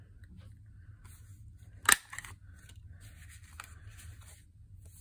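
A circle punch snapping through paper to cut a notch, one sharp crisp click near the middle of an otherwise quiet room, followed by faint rustling.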